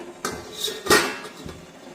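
A lid set down on a pot of boiling water to steam wheat-flour modak, giving two close metallic clanks about half a second apart, the second louder.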